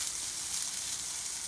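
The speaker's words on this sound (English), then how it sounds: "I'm just frying them in the remains of the oil and all the seasonings in there." Sliced zucchini fries in leftover oil and seasonings, giving a steady, close, even sizzle and hiss that runs without a break and without any voices.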